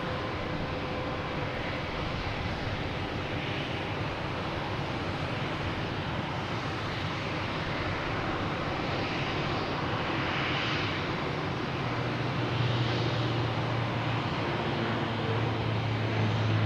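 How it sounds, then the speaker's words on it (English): A Porter airliner taking off gives a sustained, broad engine roar at moderate level, growing slightly with a low drone later on, with no voices. "Next taking off is Porter heading to Toronto"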